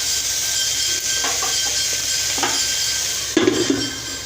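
Kharkol leaves frying and being stirred in a covered pan on a gas stove, a continuous loud sizzle with a few soft scrapes and clinks of the utensil.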